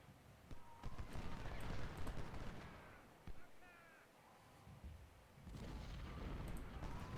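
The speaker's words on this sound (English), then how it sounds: "Okay, you guys are taking artillery fire" Artillery fire in the Ultimate General: Civil War battle at a Potomac fort: repeated dull booms and cracks of cannon, some distant, some closer, spread across the clip over a continuous battlefield rumble.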